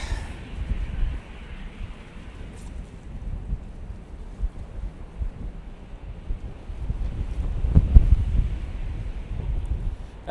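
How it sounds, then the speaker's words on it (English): Wind buffets an outdoor microphone at Manchester Airport, a continuous low rumbling roar that swells and gusts, with a stronger blast near the end and no voices. "breeze has just gone up a bit"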